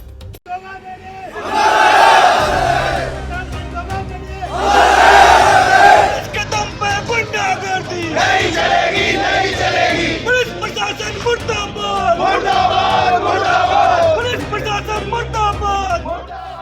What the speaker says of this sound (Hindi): आक्रोशित भीड़ और नारेबाजी